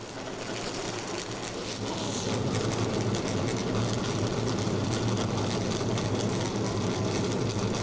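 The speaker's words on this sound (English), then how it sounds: "Drivers, start your engine!" Stock car engines at Langley Speedway fire up and settle into a steady, building mechanical drone, a low rumbling roar that swells slightly and then holds constant with no voices on top.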